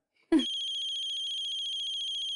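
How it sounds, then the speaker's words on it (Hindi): A mobile phone ringtone starts abruptly and rings steadily, a bright electronic trill that continues without pause, in a TV drama scene. "आपकी माँ का फोन है"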